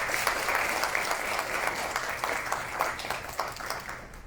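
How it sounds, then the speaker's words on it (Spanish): An audience at a Spanish-language forum on adequate housing claps in warm, sustained applause, a dense patter of many hands that stays steady for a few seconds. "la despedimos nuevamente con un fuerte aplauso"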